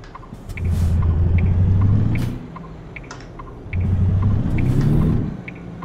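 A truck engine in American Truck Simulator drones as two long, steady surges of low rumble, each about two seconds, separated by a quieter idle with faint clicks.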